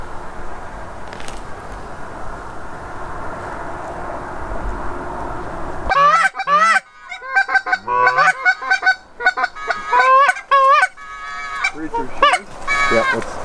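Geese honking in a farm field during an Iowa goose hunt, a dense chorus of many overlapping calls, loud and close in bursts after a few seconds of low rumbling wind and distant calling.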